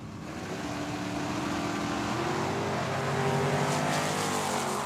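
Drag racing cars launching side by side at Tucson Dragway during the Cactus Clash. The engine roar builds quickly, then holds loud and steady as the cars pull away, with no voices.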